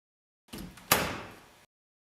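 An AED Plus wall cabinet door closes in a single short movement, with a faint slide followed by a sharper thud and a brief fading rattle, heard alone in an otherwise silent room.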